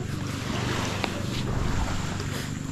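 Strong wind gusts buffet the microphone on a beach at Balot Island in the Philippines, a steady roaring rush with low rumbling, loud and continuous throughout.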